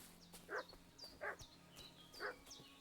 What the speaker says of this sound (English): I hear dog barking.